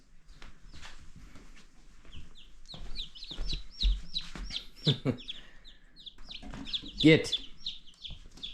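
Chickens on an off-grid homestead cluck and call in irregular bursts at close range, with a few sharper squawks, while a person talks nearby.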